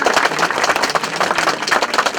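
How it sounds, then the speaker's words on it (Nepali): An audience claps to welcome a guest at a formal programme during a Shrimad Bhagavat Purana recitation in Listikot, Sindhupalchok. The applause is dense and continuous, with no speech. "गरेर तालीले स्वागत गरौँ।"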